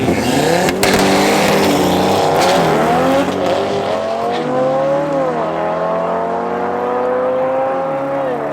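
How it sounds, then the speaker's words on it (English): Toyota Corolla and Audi RS3 launching side by side in a UDL 2024 drag race at Midvaal Raceway, engines roaring loud and close with revs climbing and shifting steadily throughout, no talk. "we got a Corolla going up against the Audi RS3"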